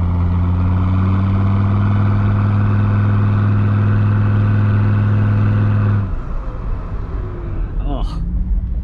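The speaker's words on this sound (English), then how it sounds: "Oh, I love the sound of the turbo." A Mercedes W123 300TD diesel estate wagon with a turbo and a side-exit exhaust drones loud and close with a steady, humming engine tone, which then shifts as the revs drop while a person speaks over it.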